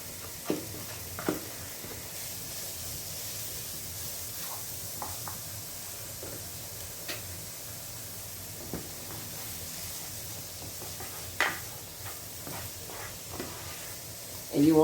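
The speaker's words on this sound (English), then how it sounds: "So I'm going to go ahead and saute my onions, put a little bit of oil down in my skillet" Chopped large onion frying in a little oil in a skillet, a steady soft sizzle and hiss carrying through, with occasional faint clicks and stirring taps and a louder clatter at the end.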